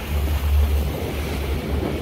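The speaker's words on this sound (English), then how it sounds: "The waves are breaking on the breakwater here." Waves break against a breakwater off Block Island, heard from a boat as a continuous low rushing wash mixed with wind rumble and engine-like drone, with no speech.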